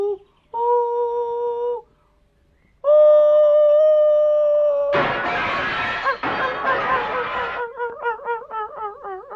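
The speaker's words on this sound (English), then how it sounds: "I tell you, I heard it, Rosemary. It was a hyena" Eerie howling taken for a hyena, sustained wavering tonal cries separated by a short silence, then a loud noisy crash-like burst and a warbling, wobbling howl at the end, loud and close.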